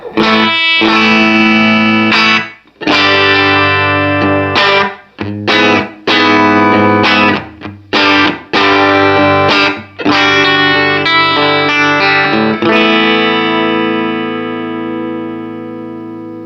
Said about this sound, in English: This is no reverb coming out of the super reverb. This is just naked super reverb.